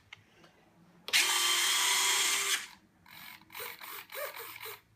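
A loud mechanical whir of RC plane retractable landing gear runs steadily for about a second and a half, then stops, followed by a few short clicking and whirring bursts as the gear locks, close up.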